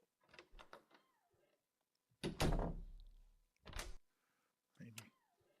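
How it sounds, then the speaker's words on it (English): A door creaks open and then thuds in separate bursts, played back as a sound effect between short stretches of quiet, with a voice talking briefly in between. "I'm just listening to the door."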